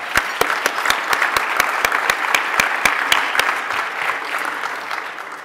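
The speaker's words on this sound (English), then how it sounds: "Give him a nice round of applause." A conference audience breaks into steady applause, dense clapping with a few sharp loud claps near the microphone, gradually thinning toward the end.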